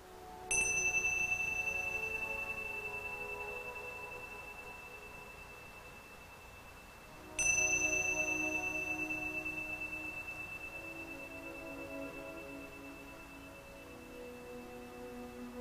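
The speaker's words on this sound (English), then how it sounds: "These are ancient Tibetan temple bells that imitated or recreated the sound that's naturally heard within" Ancient Tibetan temple bells are struck twice, several seconds apart. Each strike gives a clear, sustained metallic ring with a bright high overtone that slowly fades, heard alone without talk.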